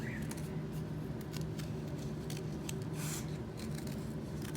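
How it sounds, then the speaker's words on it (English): Scissors snip along wiggly lines in paper at a craft table, a steady run of close, soft rasping cuts with brief crisp clicks, no talk over it. "Easy for me to cut wiggly lines."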